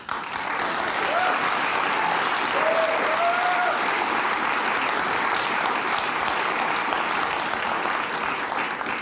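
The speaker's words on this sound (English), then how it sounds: "That line will get you an applause break from all sides." A crowd breaks into sustained, even applause, a thick wash of many hands clapping at steady loudness with no pause.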